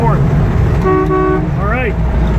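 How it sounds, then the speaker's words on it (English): A 1968 Chevy Camaro's horn sounds in one steady blast of about half a second, close and clear over road and engine noise inside the moving car, with voices nearby. "How about the horn?"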